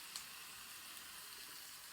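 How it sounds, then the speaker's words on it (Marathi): Dhapata flatbread sizzles on a hot oiled tava griddle, a steady, soft frying hiss with no break and no talk. "तवा गरम झाला की हे असं धपाटा तव्यावर सोडायचं"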